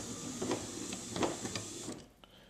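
A BMW E46 3 Series window regulator motor runs in reverse on a workbench, giving a short whirring, ticking mechanical drive for about two seconds before stopping, close and fairly quiet.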